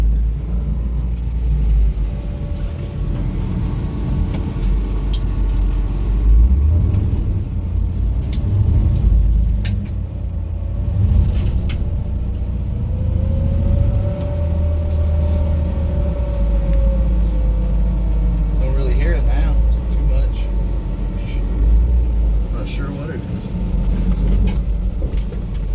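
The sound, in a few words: 1964 Chevrolet Impala driving on a test drive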